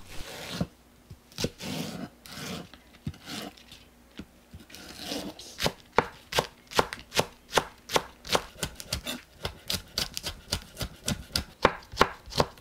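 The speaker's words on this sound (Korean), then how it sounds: "파를 썰어주세요." A knife chops rapidly on a cutting board, slicing green onions in steady, crisp strokes that quicken into a fast, even rhythm. Close and clear.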